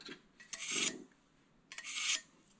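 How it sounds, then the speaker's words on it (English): Two quick rasping strokes of a knife drawn across the twin ceramic rods of a sharpener after filleting fish, scraping bursts separated by a short pause, close and with no speech. "touch it up here with the sharpener."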